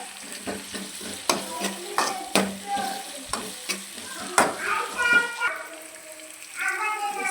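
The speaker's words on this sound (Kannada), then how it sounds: "ಎಣ್ಣೆಗೆ ಹಾಕ್ಕೊಂಡ್ರೆ ಅದು ಸ್ವಲ್ಪ ಆನಿಯನ್ನು ಫ್ರೈ ಆಗೋ ತನಕ ಕೆಂಪು ಬರೋ ತನಕ ಫ್ರೈ ಹುರ್ಕೊಳ್ಬೇಕು" Onions fry in oil in a pan for a dried mathi fish palya, with repeated loud scraping clatters from a stirring spoon over a crackling sizzle. A voice murmurs faintly toward the end.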